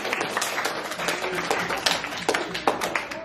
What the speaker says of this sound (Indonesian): tepuk tangan untuk buat Adam sudah keluar